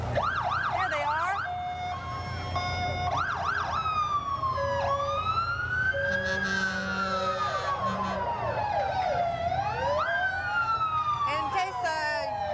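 Several fire engine sirens wail and whoop at once during a 1988 street parade, rising and falling tones overlapping loudly above a rumbling engine and crowd noise, with horn-like blasts in between.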